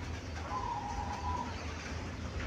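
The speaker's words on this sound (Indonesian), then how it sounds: "Perkutut Udan Mas." Perkutut (zebra dove) of the Udan Mas type, locally caught wild bird, gives a soft cooing note over steady low background hum, moderately distant and faint.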